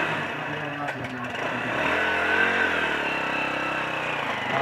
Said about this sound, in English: The Maasai warrior is on the motorcycle.